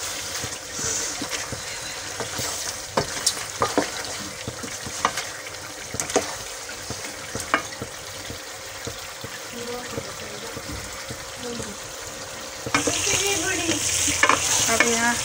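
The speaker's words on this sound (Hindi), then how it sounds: "अब हम इसकी अच्छे से भुनाई करेंगे।" Meat with garam masala frying in a pot for aloo gosht, steady sizzle under repeated scraping and clattering of a spoon as it is stirred close up, growing louder near the end.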